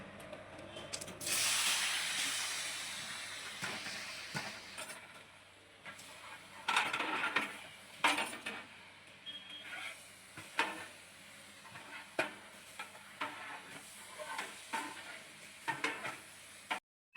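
Twelve kilograms of onions sizzle loudly as they hit hot oil in a large pot for a huge batch of mutton biryani in Palakkad, followed by intermittent scraping and stirring bursts over the steady frying.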